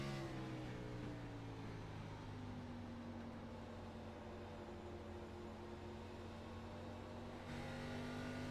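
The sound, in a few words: Xfinity Series race car engine downshifting at Phoenix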